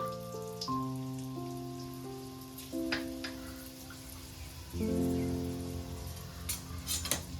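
Whole spices, cinnamon bark and cloves, fry in hot oil over a lowered flame with a faint, steady crackle and sizzle beneath soft background music.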